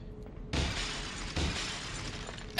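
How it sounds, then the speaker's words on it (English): Window glass smashing in Resident Evil 4, with two loud shattering bursts about a second apart followed by a brief sharp crack at the very end, no voices over it. "I'm just smashing all the windows"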